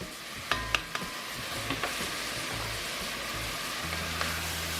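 Ground beef sizzling in bacon fat in a pan, a steady close frying hiss with a few sharp scraping taps from stirring early on, no voices.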